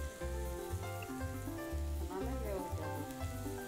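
Asafoetida (hing) dropped into hot oil with browned onion and garlic while making jackfruit curry, a steady sizzle running under loud, rhythmic background music throughout.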